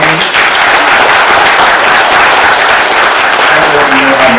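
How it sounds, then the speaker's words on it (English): Loud, close audience applause for judicial candidates at a candidate forum, a thick continuous roar of clapping sustained evenly from start to finish, with faint voices under it near the end. "Let's give a round of applause to our judge candidates."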